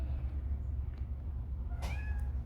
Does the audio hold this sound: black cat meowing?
yes